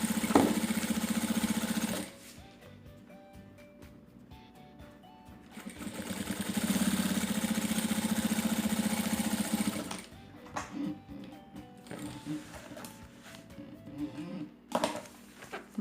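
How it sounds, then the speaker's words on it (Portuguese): Sewing machine stitching the zipper channel of a fabric diaper bag, two long steady motor runs with a pause between, then intermittent handling knocks and rustling, close and loud. "Mantendo a mesma margem de costura aqui do outro lado, para não dar diferença."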